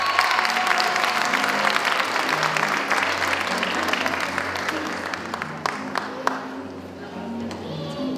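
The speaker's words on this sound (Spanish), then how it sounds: "igual le damos un fuerte y cariñoso aplauso." An audience at a school Teachers' Day ceremony applauds warmly, steady dense clapping that holds strong and then thins out toward the end, with scattered louder claps.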